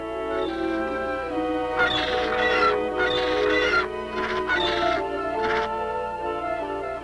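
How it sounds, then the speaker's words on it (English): A bird gives frantic, crow-like caws: several harsh, close bursts come in quick succession, rising and falling in loudness over a low background hum. "Then he heard Skygak's frantic call."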